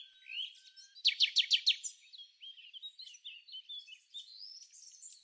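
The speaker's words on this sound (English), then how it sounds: "Let's meet the red-billed Quelea, the most numerous bird in the world." Red-billed quelea calling in a flock, high thin chirps and twittering with a quick burst of rapid repeated notes near the start, faint and airy, no voices.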